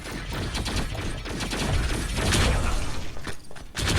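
Rapid bursts of gunfire crackle in a busy T3 Arena match, layered with mechanical clacks and shattering effects in a dense, continuous barrage that stays loud throughout.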